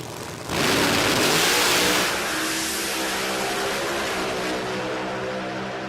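Supercharged drag racing car of over 3,000 horsepower launching down the track, a sudden thunderous roar bursting in after a brief lull, then a sustained loud engine drone that fades slowly as the car pulls away.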